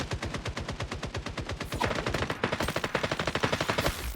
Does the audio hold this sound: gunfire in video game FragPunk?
yes